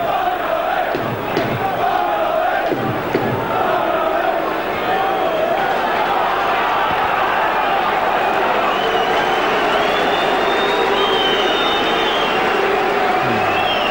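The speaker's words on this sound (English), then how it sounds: "Bowyer comes back on to a round of applause" A football stadium crowd at a 1995/96 FA Cup third-round match between Charlton Athletic and Sheffield Wednesday applauds a player returning to the pitch, a broad steady roar of clapping and murmuring voices from the stands.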